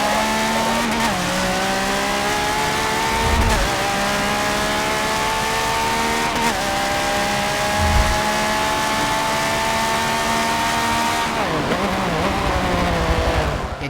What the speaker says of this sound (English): Check out the sound of this car.